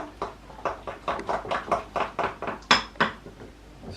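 Flour and water face mask mixed in a bowl, quick rhythmic scraping and clinking of a utensil against the dish, about a dozen close strokes in a steady rapid pattern, no talking.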